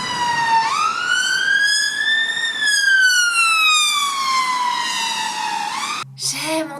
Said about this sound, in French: Écoutez-moi juste le son que font les ambulances ici.